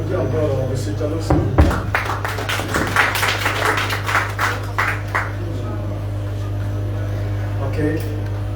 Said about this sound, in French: On applaudit encore M. Tchalos.